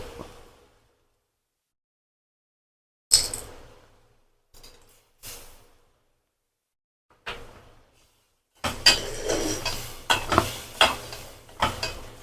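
Garlic thokku cooking in oil with tamarind and salt, stirred in short bursts: a spoon scrapes and clatters against the pan between quiet pauses, then a sustained sizzle with repeated stirring strokes near the end.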